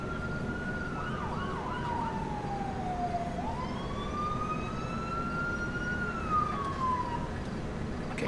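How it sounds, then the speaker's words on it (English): In GTA V, an ambulance siren wails in slow rising and falling sweeps as it approaches, carrying over steady background road and engine noise. "But here comes the ambulance."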